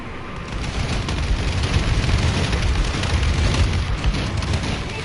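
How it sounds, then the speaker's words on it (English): Explosions from a friendly bombing run in a video game: a dense, sustained rumble of booms filling the whole stretch, loud and continuous with low-end weight and no talk. "Friendly bombing run clearing the way."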